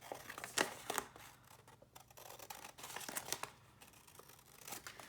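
Scissors snipping through paper craft material for decorative work, several short crisp cuts and rustling paper crinkles close by, irregular and fairly quiet, with no talking.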